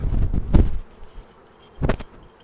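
Honeybees released back to their hive buzz in close, loud bursts at the start and again near the end, with quieter buzzing between them.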